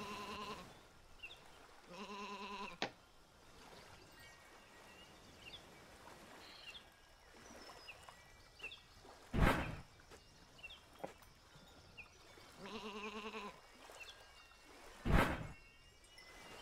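Two bleats from a sheep on the Isle of Ewe, each a short wavering call a few seconds apart, with scattered footsteps and a couple of sharp knocks in between against a quiet outdoor background.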